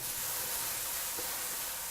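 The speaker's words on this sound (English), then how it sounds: "We're gonna saute this until the onions are translucent" Onions sautéing in a very hot pan for lentil tacos, giving a steady, even sizzle throughout with a faint stir or tap near the middle and no voices.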